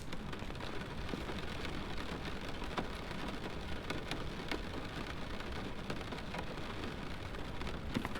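Heavy rain drums against windows in the Phasmophobia video game, a dense, steady downpour patter with occasional sharper drops and a low rumble beneath.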